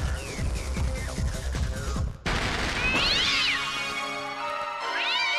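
A cougar vocalizes with drawn-out, rising and falling yowls that sound like a cat's meow. Two cries stand out from a steady rumbling bed, after a burst of low busy noise and a brief dropout.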